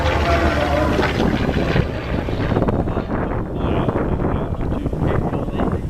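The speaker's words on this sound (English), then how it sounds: "Quite an airplane, ain't it? Navy fighter." Navy fighter jet, a 1950s carrier plane, flying during the night show at the Sun 'n Fun 2022 air show, a loud continuous roar with wind buffeting, filling the whole stretch without a break.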